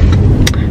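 Interior drone of a car driving on the road, a steady low engine and road rumble with a couple of brief higher rattles or clicks, no talking.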